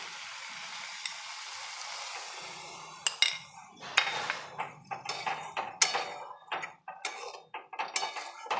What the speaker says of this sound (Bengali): এবার আমি ওই মশলার বাটিতে, যেটা মশলা বাটি ধোয়া জলটা আমি দিয়ে দিচ্ছি।